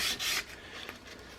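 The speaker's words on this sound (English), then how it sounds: "I'm making sure that when I'm doing this with my sandpaper that I'm folding the sandpaper all the way around the file" Sandpaper wrapped around a file rubbed over the wooden stock of a Kibler Southern Mountain flintlock rifle, two quick close rasping strokes followed by softer scraping.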